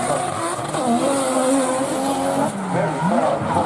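Drift cars slide through a corner at the British Drift Championship at Driftland, engines wailing at high revs with rising and falling pitch and tyres squealing, loud and close; no speech is heard.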